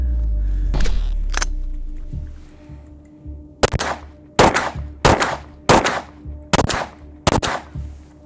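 Six sharp gunshots from a mud-fouled Glock 17 pistol, fired at uneven intervals of roughly half to one second, loud and close, following a low rumble and a couple of faint clicks.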